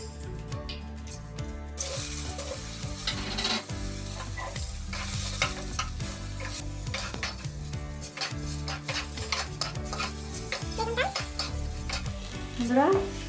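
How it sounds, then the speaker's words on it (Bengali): Eggplant pieces fry in hot oil in a kadai for shukto, sizzling continuously while a utensil repeatedly scrapes and knocks against the pan, close up with no voices. "বেগুনটা আমি ভেজে নেব।"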